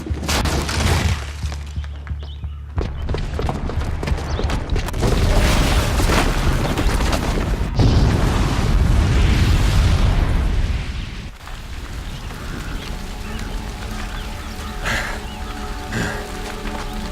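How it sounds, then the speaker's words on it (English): A bomb blast in Horizon Zero Dawn detonates with a heavy, sustained low rumble and crackling debris that swells and holds for several seconds, then settles into a lingering roar with game music underneath. "the booby trap on the bomb downstairs is gonna get set off"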